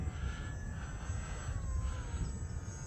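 A HobbyZone Aeroscout RC plane flies on a windy winter day, its small motor giving a steady, moderately distant buzz whose pitch glides slowly up and down over a constant wind-like rumble.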